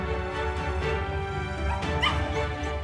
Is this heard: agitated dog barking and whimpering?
yes